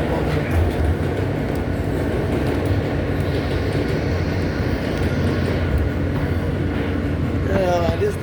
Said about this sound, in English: Yeah, this is the R train.